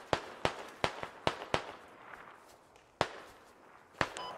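Single gunshots crack in the Squad military shooter on the Gorodok map, a quick series of five or six sharp reports followed by a pause, then two more, moderately distant with no talk over them.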